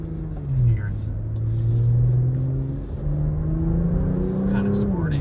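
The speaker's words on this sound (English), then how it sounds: "it does a little burble. You can hear the exhaust a little bit more" A 2025 Porsche Macan S engine hums and rumbles steadily while driving, with a low exhaust burble that rises and falls slightly as it accelerates.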